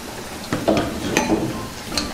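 Green chillies, dried red chillies and ginger-garlic paste sizzle in hot oil while being stirred, with a steady frying hiss and a few sharp scrapes and clinks of the spoon against the pan.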